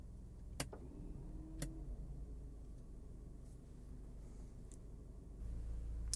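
A Subaru Outback electronic parking brake releases with a couple of sharp clicks and a brief, faint motor whir, heard quietly over a low steady background rumble.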